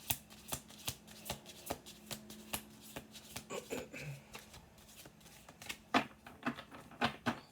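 Tarot cards being shuffled and laid out on a table, giving a steady run of soft, crisp card flicks and taps close by, with brief quiet voice sounds in places.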